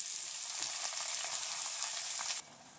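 Vegetable leaves hit a hot garlic and chili tempering, a loud, steady hiss of frying that suddenly drops to a softer sizzle near the end, close up with no talk.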